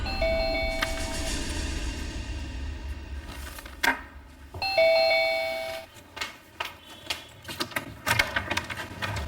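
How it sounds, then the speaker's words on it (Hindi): Two doorbell chimes ring out a few seconds apart, clear and close, followed by footsteps and movement in a quiet room. "तभी डोरबेल बजी।"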